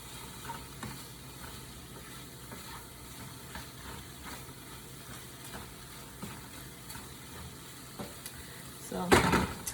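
Shrimp sizzle and get stirred in a pan with a steady, fairly quiet fry, light scraping strokes throughout and a louder burst of stirring near the end, no voices.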